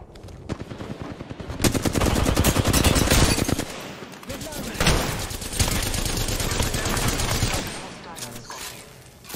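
Rapid automatic gunfire in Apex Legends, long close bursts of shots with brief pauses and a few single cracks, over game sound.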